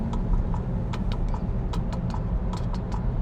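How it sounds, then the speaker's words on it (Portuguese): The turn signal of a 2012 Citroen DS4 THP clicks in a quick, regular rhythm over the low hum of the idling engine, heard from inside the cabin with no one talking. "O barulho do pisca do carro, ele é musical."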